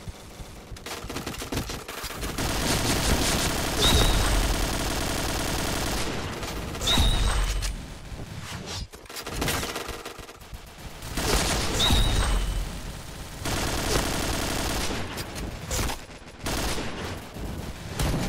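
Bursts of automatic gunfire rattle through a shooting match in the Witch series video game, with dense volleys separated by short lulls, loud and close throughout.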